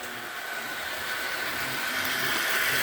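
A vintage Rivarossi Mikado model steam locomotive running on track after restoration: a steady, close mechanical whir and hum that grows slightly louder over about three seconds, with no talking.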